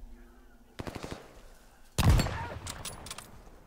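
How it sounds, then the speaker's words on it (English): Automatic weapon gunfire in the video game Vanguard comes as a quick rattling burst of shots, followed by a heavier, louder blast that fades with a short tail, close and punchy. "He had an automatic weapon."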